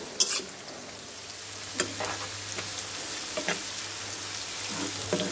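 Onions fry in a pan for potato mash, giving a soft, steady sizzle with intermittent spatula stirs and scrapes at close range, fairly quiet and with no voices.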